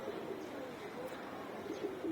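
Giribaz pigeons coo softly in a loft, a steady low murmur of several birds running throughout with faint chirps mixed in.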